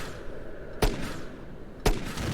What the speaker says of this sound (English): you can fire some grenades, and they will hit the boss area, and you'll know if you did, because you'll hear this sound